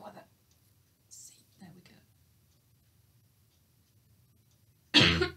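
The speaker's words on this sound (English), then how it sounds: "I can't stop coughing this morning." A woman coughs several times indoors, first a few quiet, scattered coughs and throat sounds, then one loud, sudden cough at the end, with near silence in between.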